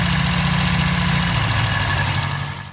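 The engine of a 1962 Austin Healey Sprite Mark II idles steadily at close range, a low, even, throbbing rumble with constant vibration that tapers slightly at the end, with no talk over it.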